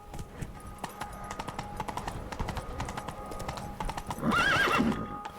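Roach, the horse in The Witcher 3 video game, gallops with rapid, rhythmic hoofbeats, then lets out a loud neigh near the end.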